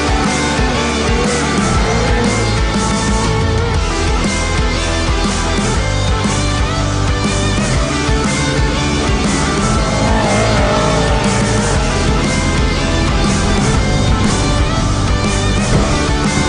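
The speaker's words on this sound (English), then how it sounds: "Got a VR6 in this bad boy and she's loud." A loud VR6-engined rally car roars flat out through a wooded stage, the engine droning and revving continuously with tire noise, heard close and without pause for the whole stretch.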